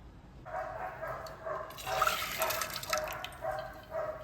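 Soaked chickpeas (kollu) are poured along with their soaking water into a pressure cooker, giving a soft continuous splashing and gurgling pour that lasts a few seconds, quiet and without talk.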